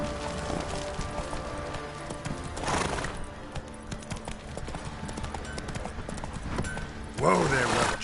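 Roach, Geralt's horse in The Witcher 3, trots with steady clip-clop hoofbeats over continuous game ambience, a brief whinny-like flourish near the end, and a voice speaking.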